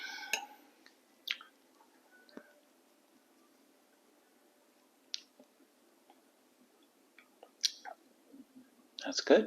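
Someone eats a peach aged for one year, making quiet, close, wet chewing and squishing sounds with scattered soft clicks, and speaks briefly.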